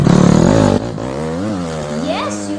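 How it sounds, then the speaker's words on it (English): A motorcycle engine revs loudly and steadily, a dense droning tone that rises and dips through a couple of short surges over about two and a half seconds. "This is a sound of a motorcycle."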